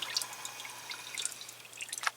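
Engine oil dripping from the drain of a 2009 Ram truck, with quick, irregular drips and light trickling heard close up.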